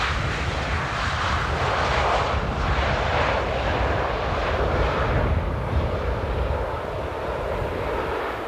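A fixed-wing airliner lands at Amsterdam Airport on a windy day, its engine roar loud, broad and continuous throughout, easing slightly toward the end, with no voices.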